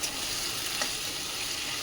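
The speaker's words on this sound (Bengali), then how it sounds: "আদাটা ছিটকাচ্ছে" Ginger paste sizzles and spatters steadily in hot oil, a dense continuous frying hiss with a small pop near the middle, close and moderately loud with no talking.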